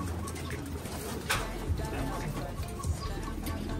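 Pigeons cooing nearby, soft low repeated coos over a steady background hum, with some faint chatter mixed in.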